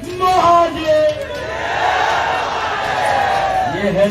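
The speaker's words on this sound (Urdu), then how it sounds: "آپ یہ نعرے ذرا سن لے" A crowd at a political rally chanting slogans, a loud massed roar of voices rising and falling in waves, with one voice rising above the rest and some cheering.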